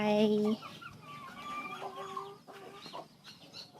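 Several egg-laying hens cluck and squawk close by in quick, uneven bursts, with a brief louder call at the start.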